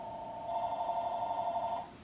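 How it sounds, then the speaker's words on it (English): A landline telephone rings inside a house in a single steady electronic trill of about a second and a half, fairly clear over a quiet room with no one talking. "The phone is ringing in my house."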